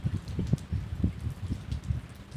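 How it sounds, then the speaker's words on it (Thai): Steady rain falls outdoors at a fishing spot, a soft, continuous patter with low dull drops throughout, fairly faint and with no talking. "บรรยากาศ ฝนตกนะครับ"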